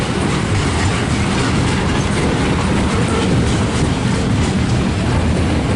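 A freight train rolls past on the railway, loud and close, with a continuous rumble and rhythmic clickety-clack of wheels over rail joints throughout, and no voices.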